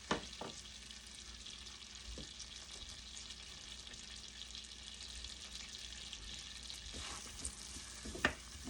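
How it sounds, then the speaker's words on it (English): Onions hit a hot pan and crackle with a soft, steady sizzle for ravioli filling, faint and close, with a few clinks of stirring and utensil taps breaking through. "So that sizzle right there tells me I need to get something cracking in there."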